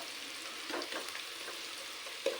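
Sliced onions fry in a pan for a bitter gourd chilli fry, giving a soft, steady, quiet sizzle with a faint clink near the end.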